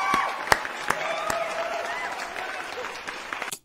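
A small crowd applauds at a freestyle rap event, a brief burst of clapping with a few sharp claps standing out, fairly quiet and fading out after a few seconds.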